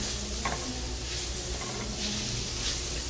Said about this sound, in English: This is going to take approximately about 5 minutes to saute these mushrooms to my liking.